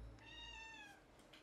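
A cat meows once in a Minecraft game, a clear rising-falling call with bright harmonics lasting about a second, alone over a faint steady background.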